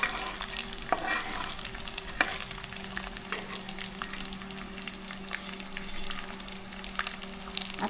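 Edible gum (dink) fries in hot ghee in a kadhai, with a soft, steady sizzle and bubbling. A few light clicks of stirring sound close by, and no one speaks.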